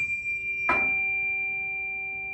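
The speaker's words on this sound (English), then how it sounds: "It's that sound that you hear right there when I placed the tuning fork or pressed it up against the desk." A struck tuning fork is pressed against a desk, giving a sudden brief contact thump followed by a clear, steady pure tone that rings on and slowly fades, quiet and alone.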